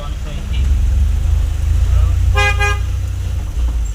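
Busy road traffic on a Gujarat highway, with a steady engine and road rumble from nearby vehicles and a sharp car horn honking in a quick burst partway through.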